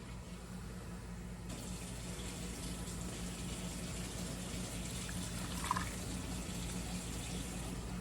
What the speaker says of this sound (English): We're going to put a cup or so of water in the bottom of the Dutch oven.